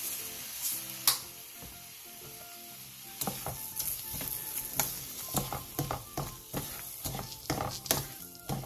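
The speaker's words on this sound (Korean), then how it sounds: "불을 끈 뒤 청양 홍고추, 대파, 참기름 1스푼, 통깨를 넣고 가볍게 뒤적여 마무리해주세요" Stir-fried cucumber being tossed lightly in a pan with red chili, green onion, sesame oil and sesame seeds after the heat is off, giving soft sizzling with scattered spoon clicks and scrapes in an irregular rhythm.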